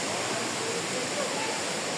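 Steady broadband rush of a waterfall, close and continuous with no breaks, forming a dense even wash of falling water.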